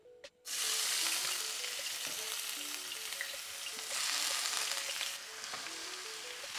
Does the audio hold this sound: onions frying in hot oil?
yes